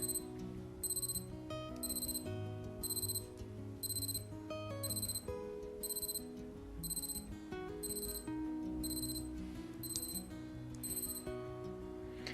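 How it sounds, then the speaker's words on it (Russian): A Citizen GPS CC4005-71Z wristwatch alarm trills in regular repeating bursts of rapid high beeps, sounding close and continuing steadily without pause. "Будильник сейчас должен прозвенеть. Ура! Послушайте, как он звенит."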